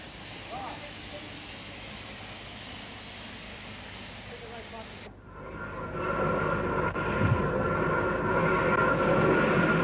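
An old steam railway engine on a country branch line gives a steady hissing rumble that cuts off briefly midway, then returns louder and fuller for the rest.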